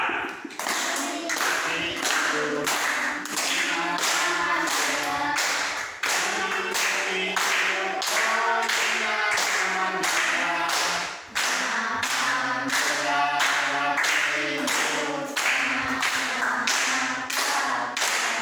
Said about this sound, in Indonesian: Tepuk tangan. 1, 2, 3.